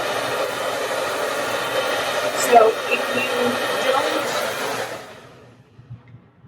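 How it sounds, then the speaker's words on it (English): A hair dryer blows with a loud, steady whirring roar, with a faint voice briefly underneath, then switches off, leaving quiet. "So I'll be turning the blow dryer on and off."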